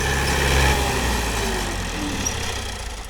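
A tractor engine runs close by with a continuous, low, throbbing rumble that stays steady throughout.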